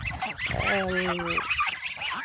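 A goose gives a single loud, drawn-out honk close by against a noisy outdoor background.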